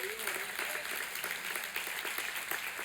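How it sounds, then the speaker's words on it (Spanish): A church congregation claps together in steady, full applause, a broad wash of hand claps filling the room with a faint voice briefly at the start. "Dele ese aplauso a Dios."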